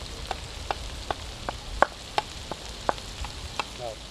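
Red curry paste fries in a pan over a coal pot for a Thai pork curry, a soft continuous sizzle punctuated by regular sharp scrapes and taps of stirring, fairly close and without voices.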